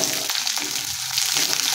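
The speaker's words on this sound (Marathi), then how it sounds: "मध्ये 1 उभा चिरलेला कांदा घालायचा" Sliced onion sautéing with vegetables in a pan for veg chow mein crackles in a loud, even sizzle with a soft stirring texture throughout.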